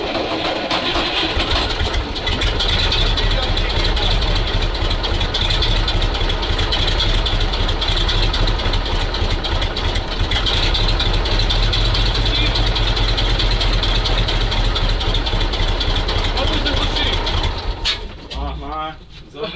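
An old MAZ truck diesel, started after fifteen years in storage at a military base, idles loudly and steadily with a rough, throbbing rumble for most of the stretch, then cuts out near the end, leaving brief clatter.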